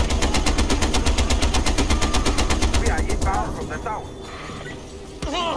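Rapid, rhythmic machine gun fire in Far Cry 4 rattles loudly for about three seconds, then stops, leaving quieter background sounds and a final thud.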